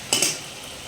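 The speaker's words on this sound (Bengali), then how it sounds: "এখন মশলা কষানো চলছে" A spice masala sautés in a pan while a metal spoon gives two quick scraping clinks against it. A faint sizzle lingers afterward, close and brief, with no speech.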